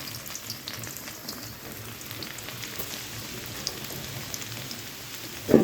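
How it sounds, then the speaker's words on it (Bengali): Garlic fries in a pan with jute greens (nali shak), giving a steady close sizzle and crackle like light rain, with a brief clatter of stirring at the end. "শাকের মধ্যে এখন রসুন ভাজি করবো"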